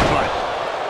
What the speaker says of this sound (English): Stiff headbutt.